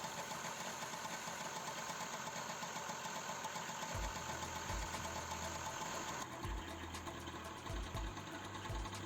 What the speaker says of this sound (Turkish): Şimdi temizliğini yaptıktan sonra motorumuz rahat çalışmaya başladı arkadaşlar.